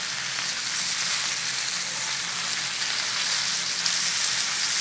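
Steak searing in a hot pan for steak frites, a dense, continuous hissing sizzle that stays loud and even throughout, close up with no talk.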